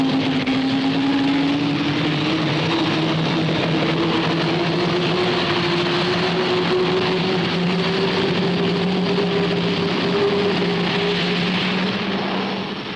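A propeller aircraft drones steadily overhead at the Farnborough airshow, a loud continuous engine hum with slowly shifting pitch throughout, no voices.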